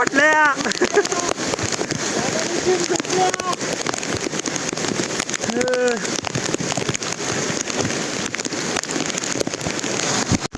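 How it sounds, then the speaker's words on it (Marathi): Heavy monsoon rain pours steadily on a trek from Panhala to Pawankhind, a dense loud hiss throughout, with people talking and calling out over it nearby. "लय मोठा पाऊस."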